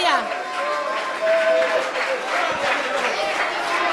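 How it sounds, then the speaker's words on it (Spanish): A church congregation at a Bonaire prayer service claps for the Lord, a dense continuous patter of hands with murmured voices and chatter mixed in underneath. "aplauso para el Señor"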